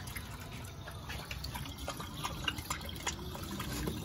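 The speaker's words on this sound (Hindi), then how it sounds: "पानी ले पिलाता हूँ, देखो आ जा थोरी" Water pours and drips steadily into a drinking dish for a pet, a continuous close trickle with scattered splashy drops, and no talk over it.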